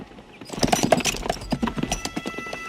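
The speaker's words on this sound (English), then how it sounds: "Is that a horse?" Horse hooves clip-clop in a quick, uneven rhythm, fairly close, with no voices over them.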